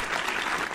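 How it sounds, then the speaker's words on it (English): Brief burst of clapping from a live ham radio show audience, a dense even patter of many hands lasting under a second with no talk. "Claps."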